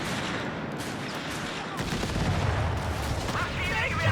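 Machine gun and rifle fire in the real-time strategy game Company of Heroes 3, a dense crackle of bursts and shots at middle distance that builds over the few seconds, with battle rumble under it.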